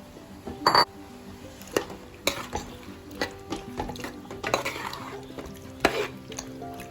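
Jackfruit pieces stirred in boiling jaggery syrup, with close, irregular spoon scrapes and clanks against the pot over a soft bubbling simmer.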